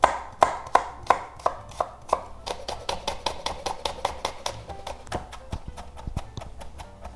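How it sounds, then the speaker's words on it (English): A knife chops rapidly on a cutting board while mincing garlic, with sharp, evenly spaced taps that slow into a steady, quicker run of lighter knocks, close and distinct. "Just mince the garlic."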